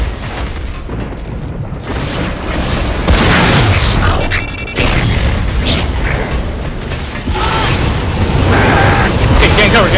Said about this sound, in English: Watch those missiles, man. They have huge blast radius.